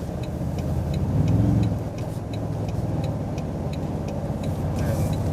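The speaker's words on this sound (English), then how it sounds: "see what kind of road noise we get as we're going up to highway speeds" Steady road and engine rumble from inside a moving Toyota Tundra TRD Pro pickup truck accelerating onto a highway, swelling briefly as it speeds up, with a faint ticking over the drone.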